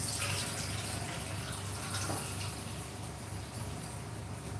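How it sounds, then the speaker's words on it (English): Water runs in a steady, moderately loud stream into a pot of mixed rice and white beans during cooking, easing a little toward the end. "Now at this point we are going to pour in water, but slowly and separately."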